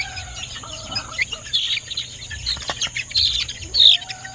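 Breeder chickens cluck and chirp nearby in a pen, intermittent calls over a low background hum with occasional rustling.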